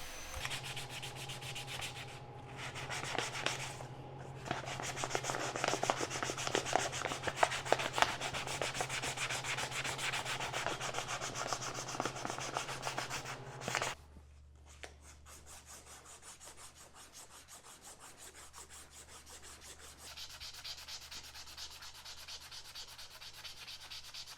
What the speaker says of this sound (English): I spent some time cleaning it up with hand sanding and polished it up to a nice shine